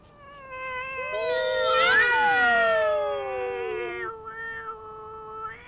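Cats caterwauling on a garden wall at night: several long, wavering yowls rise and fall together for about three seconds and then trail off into shorter, fainter cries.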